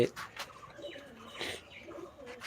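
Pigeons coo softly at close range in a home loft, low throaty calls repeating irregularly with faint chirps among them and no voices.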